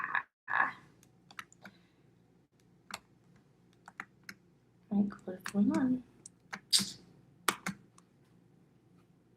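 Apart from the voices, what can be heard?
typing on a computer keyboard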